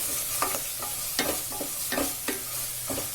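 Masala with turmeric frying in a pan while a spoon stirs it, soft sizzling under repeated scraping strokes, close and alone without talk.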